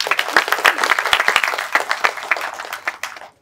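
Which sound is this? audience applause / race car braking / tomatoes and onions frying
audience applause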